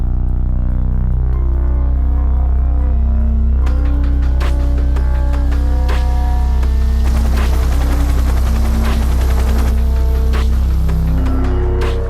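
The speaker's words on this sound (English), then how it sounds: "The helicopter was airborne within minutes, swooping low to cut off the pirate boats" A loud Royal Navy helicopter from a frigate flies low over the open ocean, droning steadily overhead with a deep rotor thrum, joined midway by bursts of sharp crackling like gunfire over a rising mechanical roar.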